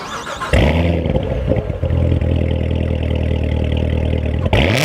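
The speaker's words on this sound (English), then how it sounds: "Wow, just listen to that monstrous exhaust." 2016 Chevrolet Corvette Z06 fires up with a sharp starter burst, then its exhaust settles into a loud, deep, rumbling idle with a few blips before another starter-like surge at the end.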